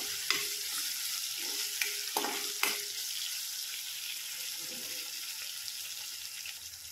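Tomatoes fry and sizzle in a pan for a karटुले (spiny gourd) dry sabzi, with a steady broadband hiss and a few sharp scraping clinks of a spoon stirring early on, close and moderately loud, no talking.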